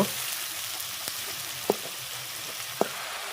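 Blender-ground spice paste sizzles and spits in hot oil as it is stirred while cooking mustard rohu fish curry; a steady close hiss runs throughout, broken by two sharp utensil taps against the pan, with no talking.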